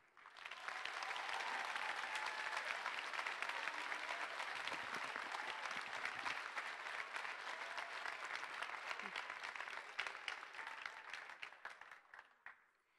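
An audience at a 2021 high school graduation ceremony applauds for the parents and families, a broad, even wash of clapping that holds for several seconds before tapering off.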